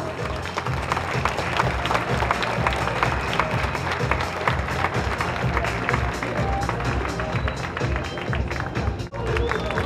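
A crowd claps for a group of girls at a livestock breeding show event in Iceland; dense, sustained applause fills the whole stretch at an even level, with faint voices mixed underneath.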